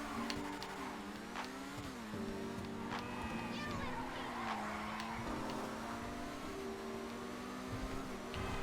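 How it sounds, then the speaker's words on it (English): An Annis S80RR race car in GTA Online drifts through a corner, engine roaring steadily while tires squeal and skid, with a voice talking over the continuous loud drone. "Do a little drift here."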